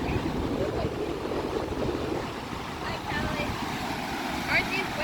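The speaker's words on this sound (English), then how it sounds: "Aren't these waves crazy?" Big waves on Lake Michigan surge steadily against the shore at a riverwalk in Portage, Indiana, with wind buffeting the microphone and a brief greeting spoken over the continuous roar.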